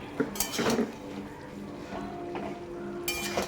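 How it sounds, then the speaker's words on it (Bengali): Cabbage being stirred in a pan while cooking a vegetarian South Indian meal, giving soft scraping and occasional clinks of a utensil against cookware, fairly close, with no talk. "এই দেখো এবারে আমি নাড়িয়ে নিচ্ছি"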